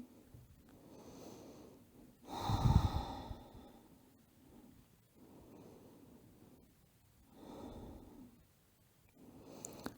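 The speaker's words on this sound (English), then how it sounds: "Just have 2 deep breaths here" Deep breaths taken while lying in a yoga pose, slow airy inhales and exhales in a gentle repeating rhythm, close and soft, with one louder snorting breath early on.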